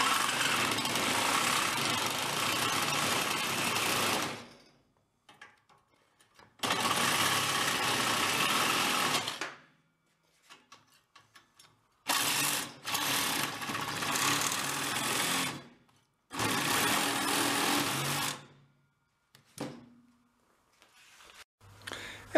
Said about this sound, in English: Finish it off with the sawzall.